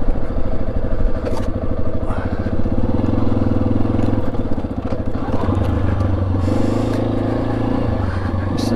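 A Yamaha XT250 dual-sport motorcycle engine drones steadily beneath the rider on a rough desert road, with a throttle that sticks. Revs rise and fall between gear changes, and wind and chassis rattle run under it throughout.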